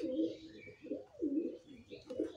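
A racing pigeon coos softly in a few low, rounded phrases close by, with no talk over it.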